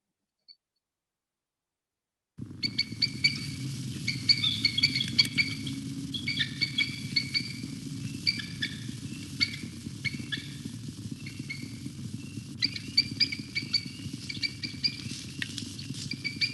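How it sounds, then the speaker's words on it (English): Bald eagle calls, a series of thin, high chittering and squeaky chirps repeating irregularly over a steady low background hum, fairly faint and distant after a brief silence. "This is what the bald eagle sounds like."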